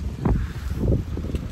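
Strong gusts of wind buffet the microphone in low, rumbling bursts that swell and fade over a couple of seconds.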